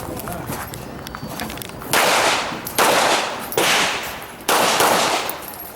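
Pistol shots fired at an IDPA shooting match, four loud, sharp cracks spaced under a second apart, each trailing a short outdoor echo, with faint bustle between them.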